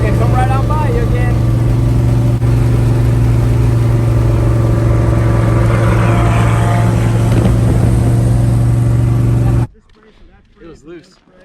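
Loud, steady engine drone from hot rod cars driving along the road, a continuous close rumble lasting most of the moment before cutting off abruptly, leaving only faint background sounds.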